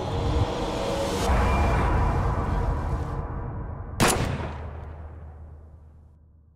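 A single gunshot in the horror video game Daymare 1998, a sharp loud crack over a dense rumbling game soundtrack that then decays and fades out.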